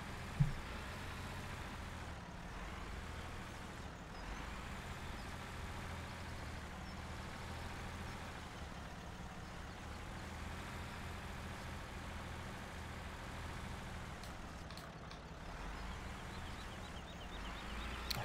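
A yellow-painted tractor with a front loader attachment in Farming Simulator 17 runs at a low, steady engine drone, faint and continuous, with no talk over it.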